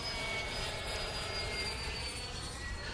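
A Freewing 80mm A-10 radio-controlled model jet flies overhead, its electric ducted-fan engines giving a continuous rushing whine with a thin high tone that holds steady at moderate distance.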